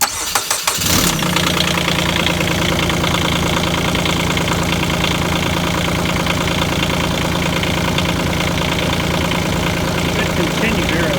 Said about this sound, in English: Cranking test start engine.